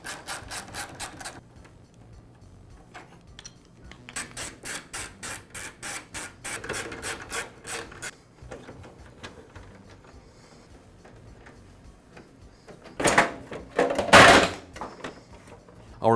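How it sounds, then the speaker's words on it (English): Rapid ratcheting or cranking bursts and scraping handling noises come from a Ridgid planer as its crank handle and covers are taken apart, followed near the end by a couple of louder clunks and squeaks. "I'll begin by disassembling the crank handle, the top cover, and the side covers."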